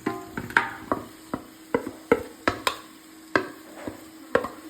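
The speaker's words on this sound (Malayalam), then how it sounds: "ഇനി നമുക്ക് വറുത്ത് വെച്ചിരുന്ന ആ ചിക്കൻ നമുക്കിതിലോട്ട് ഇട്ട് കൊടുക്കാം." Fried chicken pieces are tossed and stirred into masala in a pan for chicken varattiyathu, with a series of sharp spoon-on-pan clacks and scrapes in irregular rhythm, close and clear with no talking.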